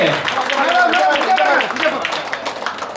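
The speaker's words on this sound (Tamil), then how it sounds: "ஒரு பெரிய அப்ளாஸ் வாங்க" Audience applause at a Jos Alukkas event, continuous clapping from a crowd filling the whole stretch, close and fairly loud, with someone speaking over it.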